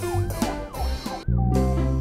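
Police car siren, heard as loud wailing tones that rise and fall over a repeating cycle, close and without any talk over it.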